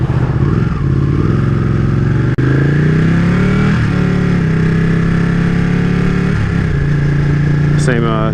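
A Ducati Panigale sport motorcycle's engine roars loudly and continuously while being ridden, its pitch rising and falling through shifts and downshifts, with a close, steady drone throughout.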